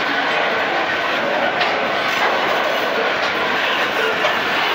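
A Rumo freight train rolls past close by, a loud continuous rumble of wheels and wagons with faint clacking that fills the whole stretch, with no speech over it.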